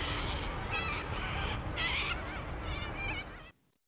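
Cockatoos along the Cooks River give harsh, raspy screeching calls in a near, steady run for about three and a half seconds, then fall silent.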